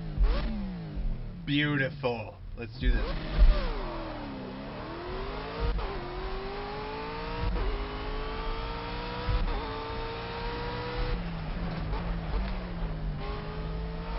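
A race car in the Project Cars video game starts and revs, its engine note climbing and falling through several throttle blips and gear changes at a steady, fairly loud level, with someone briefly talking over it.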